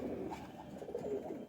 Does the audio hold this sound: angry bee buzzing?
no